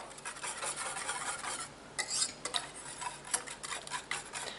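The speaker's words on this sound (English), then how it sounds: "And you keep stirring it the whole time it's cooking." A spoon scrapes and rubs around a pot of pumpkin pie filling cooking on a stovetop, soft rhythmic rasping strokes with occasional light clicks against the metal, quiet and close.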